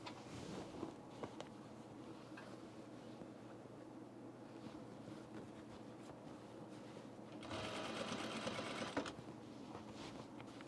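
A sewing machine stitches a blazer collar seam, its soft motor whirring steadily and faint, then running louder and busier for a couple of seconds near the end before easing back.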